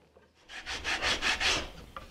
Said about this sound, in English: I'm just going to take a file here, a raspa that is